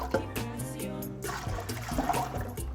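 Dashi, water and stock poured into a pot for ramen, a gushing, gurgling stream of liquid close by that rises and swells, with a faint background tone.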